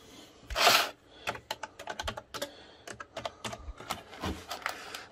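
Rapid clicking keystrokes on a computer keyboard, close and distinct, arrive in uneven bursts after a brief rustle at the start, with no speech.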